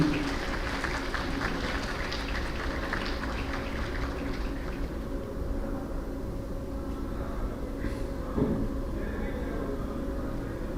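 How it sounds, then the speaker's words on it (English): Audience applause for students at a university faculty inauguration ceremony, a steady wash of many hands clapping in a large hall, moderately loud at first and then thinning out toward the end. "I would like to ask you for applause for these students"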